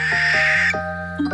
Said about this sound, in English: I think this one is a barn owl